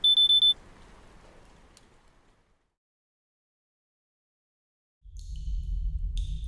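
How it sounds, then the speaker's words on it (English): A pager in an audio drama gives a quick run of four sharp, high electronic beeps at the start, then fades into quiet and silence before a low rumble comes in. "Leo's pager beeps as he is summoned back to the ORA."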